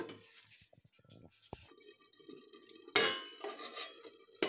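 A curry of capsicum and curd is stirred in a pan, with scattered metallic clinks and scrapes of a spoon against the pan between quiet pauses, growing busier toward the end.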